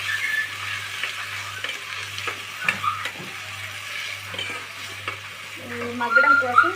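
Something frying in a pan before tomatoes go in gives a low, quiet sizzle dotted with stirring clicks and scrapes, while a faint steady hum runs underneath and brief voices appear near the end.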